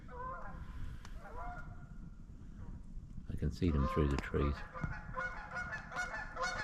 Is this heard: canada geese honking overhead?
yes